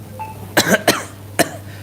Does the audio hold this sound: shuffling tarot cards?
no